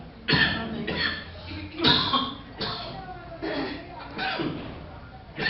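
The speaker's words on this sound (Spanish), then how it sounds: "me disculpen la molestia de la tos" A speaker sick with flu coughs repeatedly and harshly, about six close, loud coughs spaced unevenly over several seconds, heard on their own.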